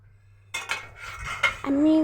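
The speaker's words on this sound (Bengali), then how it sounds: "আলুটাকে মশলার সাথে কিছুক্ষণ কষাবো।" Potatoes are stir-fried with spices in a pan while a spoon scrapes and clinks against the metal, opening with silence and then several close clattering strokes ending in a brighter ringing scrape.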